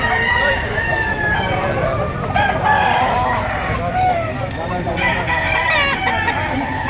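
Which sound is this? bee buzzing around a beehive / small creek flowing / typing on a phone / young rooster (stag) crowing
young rooster (stag) crowing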